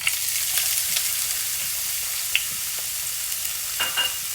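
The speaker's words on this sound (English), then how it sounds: "You want to sauteate that because you want your onions to be translucent." Onion with green and red peppers sautés in oil in a pan, giving a continuous, even sizzle with occasional faint stirring clicks and scrapes.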